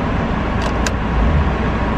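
Steady broadband engine and road rumble from a 2021 Toyota Supra GR pulling away, loud and continuous with a couple of brief high clicks, no talking.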